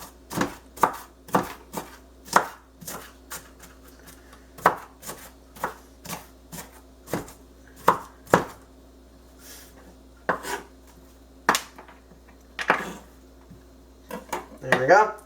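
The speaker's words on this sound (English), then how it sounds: "dice them up a little better, because we want them finely chopped as nicely as possible." A knife chops an onion finely on a cutting board in a home kitchen, making sharp, irregular taps with brief pauses, close and clear with little talk.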